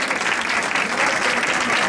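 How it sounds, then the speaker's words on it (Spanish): Elderly guests at a Roscón festival applaud the association's board with thick, even clapping from a roomful of people, loud and continuous for the whole short stretch. "Un fuerte aplauso para ellos, por favor."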